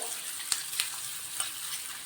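Steady sizzling of spices, including red chili powder, frying in hot oil as a tempering, with a few faint clicks over a continuous hiss.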